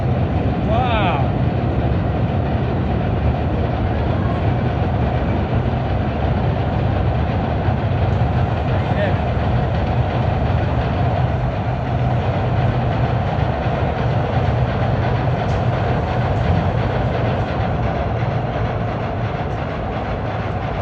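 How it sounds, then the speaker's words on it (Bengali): A train crossing the Bhairab bridge at night, a loud steady rumble and rolling rattle heard from nearby that lasts throughout, with a voice faintly underneath. "আমাদের ভৈরব ব্রিজের উপর দিয়ে এখন ট্রেন যাচ্ছে।"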